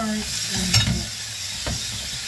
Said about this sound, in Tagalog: Ayan, igisa po natin.